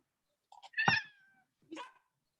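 A cat meows twice up close, a long drawn-out cry followed by a shorter one, with quiet gaps between.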